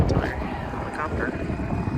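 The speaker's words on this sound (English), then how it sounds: "Helicopter up there." A helicopter passes overhead above a waterside crabbing spot, a steady low rotor drone lasting throughout, moderately loud and mixed with wind and a voice talking.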